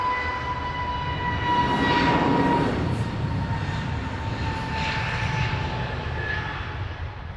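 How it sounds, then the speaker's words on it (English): Emirates Airbus A380 airliner at Heathrow Airport, its engines producing a steady loud roar with a high whine, holding fairly constant and swelling slightly before easing near the end. "Emirates A380"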